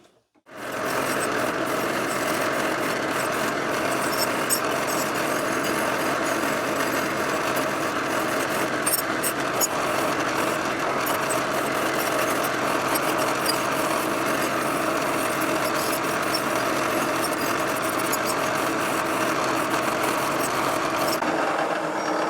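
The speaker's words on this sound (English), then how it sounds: "I'm going to take it to just the brush that I've got on my drill press." A drill press spinning a wire brush against an old Jersey-pattern boys axe head, a steady loud whirring scrape that starts abruptly and runs unbroken for over twenty seconds, with no talk.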